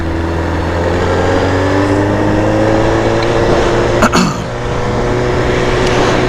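A motorcycle engine runs steadily while riding in cool, crisp air at a Houston bike night, a continuous droning hum with a brief gust-like disturbance partway through.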